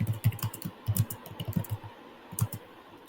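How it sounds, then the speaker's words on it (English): Rapid keystrokes on a computer keyboard while editing a property inspection report document, a steady run of close, crisp clicks with short pauses, no voices. "So I will just type out whatever I want to type, authorized by person."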